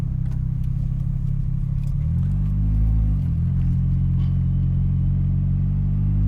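A Ferrari 328 GTS being driven, its engine rumbling low and steady, briefly rising in pitch with a rev and gear change before settling into a deep continuous drone close by.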